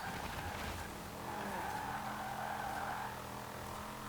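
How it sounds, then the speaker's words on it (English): A 1988 Holden VL Commodore Group A SV fitted with a Dodge Viper engine roars steadily at high speed in Forza Horizon 4, a sustained loud engine drone with faint tire squeal and no pauses. "This is the engine out of the Dodge Viper"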